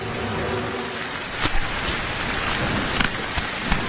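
Steady heavy rain pours throughout a cartoon scene, loud and close, with several sharp thunder cracks breaking through the downpour.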